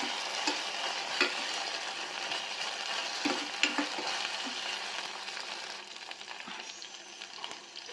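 Chopped onion stirred and frying in a pan, a steady soft sizzle with scraping stirring strokes throughout, no talking.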